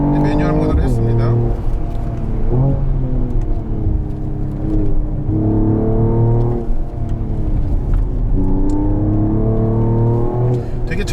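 2022 Mercedes-AMG GT43 4Matic Plus accelerating in manual shift mode on a winding mountain road, engine revving up repeatedly through gear changes in rising sweeps, loud and close, with someone talking throughout.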